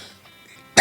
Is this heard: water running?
no